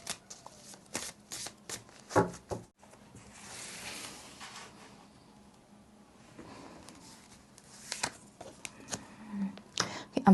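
Tarot cards are shuffled close up in soft, papery riffles and slides, with bursts of flicking between quieter pauses.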